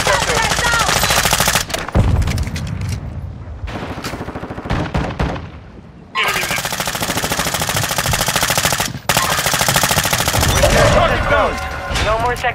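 Sustained, loud automatic gunfire from Call of Duty Warzone 2.0 on the Vondel map, with dense rapid bursts and brief pauses between them. Faint game voice callouts sit underneath.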